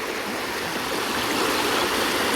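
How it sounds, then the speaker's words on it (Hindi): Ganges floodwater overflowing into a village, heard as a steady, loud, broadband rush of moving water with no pauses or talk. "ये सब गंगा जी का ही पानी ओवरफ्लो करके गांव में घुसा हुआ है।"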